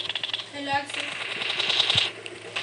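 Rapid automatic gunfire in the mobile shooter PUBG Mobile, a quick burst of cracking shots followed by a denser rattling volley, close and loud, with a player's voice speaking over it.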